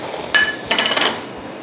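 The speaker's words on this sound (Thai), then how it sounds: "เปิดกั๊กแล้วอบเชยที่เราคั่วแล้วนะคะ ลงไปค่ะ" Roasted star anise and cinnamon dropped into a pot for Thai braised pork leg, two sharp clinks against metal close by, the second a short clattering cluster.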